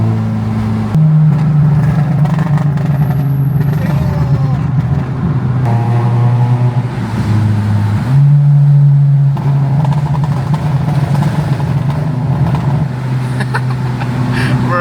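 A Honda Civic FD with a burble tune, driven in second and third gear in traffic. Its engine drones loud and close, rising and falling in pitch through several revs and shifts.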